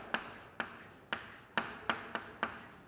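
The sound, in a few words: writing numbers on a board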